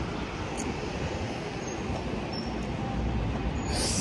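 Steady broadband rumble of a metro train in motion, loud and continuous throughout with no voices, the roar swelling slightly toward the end.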